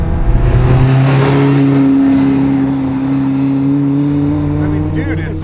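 Supercharged Caterham 620R sports car driving hard and revving, a loud, steady engine drone with rising and falling pitch throughout, close and continuous, with a brief voice near the end.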